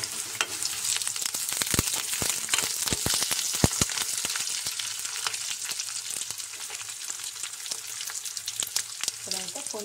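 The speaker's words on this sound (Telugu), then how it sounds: "తాలింపు అయితే వేగనివ్వాలి" Onions and curry leaves fry in hot tempering oil for a drumstick-leaf fry. Continuous close sizzling is broken by sharp popping crackles and occasional stirring, with no one talking.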